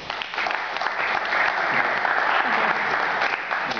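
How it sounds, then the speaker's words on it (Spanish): An audience at a young poets' reading gives a poet a full, sustained round of applause, dense clapping that stays loud for the whole stretch with no speech over it. "Fuertes palmas para él."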